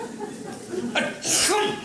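A single sharp sneeze bursts out near the end of a stage comedy scene, preceded by a brief breathy intake and soft voice sounds.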